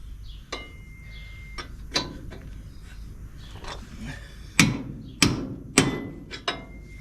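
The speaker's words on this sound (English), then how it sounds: "I know how to smack them with a hammer and make them fall right out" A hammer smacks parts loose on a project vehicle, with scattered metallic strikes that grow louder and sharper toward the end, over faint background rattle.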